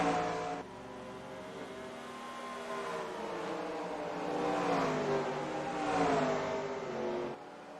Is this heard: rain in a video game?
no